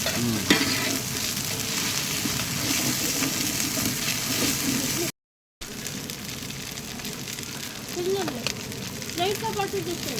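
Prawns and coriander powder fry in a pan with a steady loud sizzle and spatula stirring, broken by a brief silent gap, while voices speak faintly underneath.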